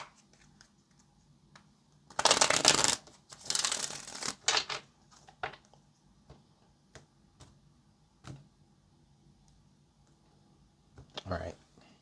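Tarot cards are shuffled by hand during a reading, a few brisk riffling bursts close by, then scattered soft taps and card handling in a quiet room.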